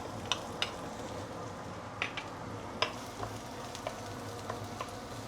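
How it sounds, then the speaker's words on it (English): Garlic, ginger and salted black beans sauté in hot oil, giving a soft, steady sizzle. Scattered sharp pops and crackles break through it, fairly close and with no one speaking. "Saute it for the flavor to release into the oil"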